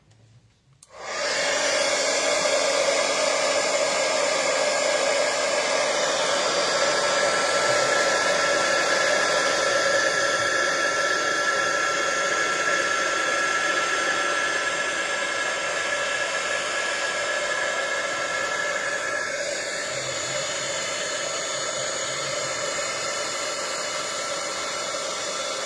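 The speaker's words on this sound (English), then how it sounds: "we'll fire up the heat gun" Heat gun for embossing switches on after a brief quiet start, then blows a loud steady whooshing hiss of hot air with a strong whine, continuing for over twenty seconds and dipping slightly near the end.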